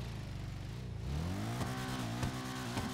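Western Reever motorcycle in GTA revs sharply with a rising engine whine, a rough sputtering burst followed by a steady mid-pitched engine drone, close and clear with no talk.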